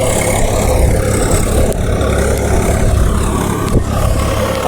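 A tractor engine runs close by with a loud, steady rumbling drone that holds at a constant level throughout, with no voices over it.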